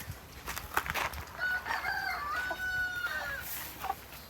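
A rooster crows on a farm, a drawn-out call rising and holding over quieter clucking and farmyard background, moderately close and without talk.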